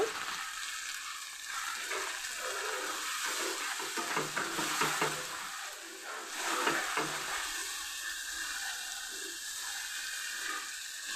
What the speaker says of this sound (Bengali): সর্ষেটা আমার ভাজা হয়ে গেছে